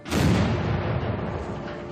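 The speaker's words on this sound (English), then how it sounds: "they hear a loud explosion" A loud explosion at the Fukushima nuclear plant sounds as a single heavy boom that hits at once and then rumbles away slowly with a long, low decay.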